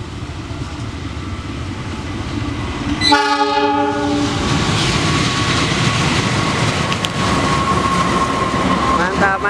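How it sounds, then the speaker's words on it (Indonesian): A passenger train horn blasts loudly with stacked harmonic tones at Rancaekek station, Indonesia, then the train rumbles past nearby with steady clattering and roaring noise. "sebentar lagi kereta api Persesatan Wai Mutiara Selatan akan segera masuk jalur belok stasiun Ranca Ekek"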